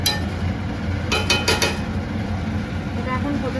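Vegetable lau shukto being stirred in a cooking pan, with a few quick metallic scrapes and clinks of the spoon against the pan over a steady low background hum.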